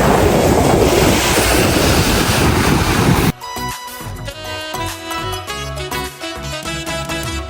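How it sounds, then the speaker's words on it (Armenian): Strong wind buffeting the microphone by the sea, a loud rushing roar with surf for a few seconds before it cuts abruptly to music. "Էսա ավելի է ուժեղանալու քամին։"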